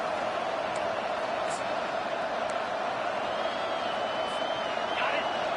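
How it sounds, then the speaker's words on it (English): A football stadium crowd roars in a steady, dense wall of noise as the home fans get loud to help their defense, with faint whistles and shouts rising out of the din. "It is getting loud as this crowd tries to help its defense"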